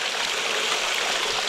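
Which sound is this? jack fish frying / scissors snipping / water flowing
water flowing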